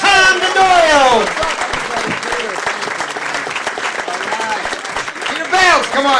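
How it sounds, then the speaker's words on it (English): A comedy club audience applauds as a comedian comes on stage, loud sustained clapping beneath a host's excited amplified voice calling out at the start and again near the end. "Please, a big hand for Tom Daddario. Come on, give me a hand! Tom Daddario!"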